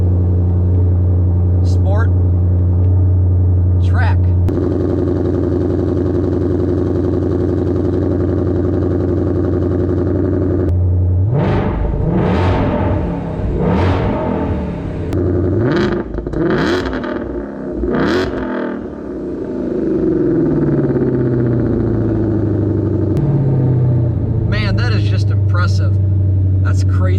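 The V8 engine of a 2020 Shelby GT500 idles steadily, then revs sharply in several quick bursts before settling back into a rumbling idle.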